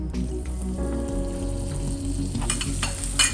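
A spoon stirs a tablespoon of butter into melted caramel sauce in a pan, making a close bubbling, sizzling sound with scraping stirs and a few louder clinks near the end.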